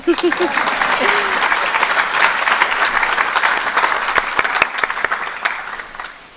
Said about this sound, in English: Okay, go ahead and applaud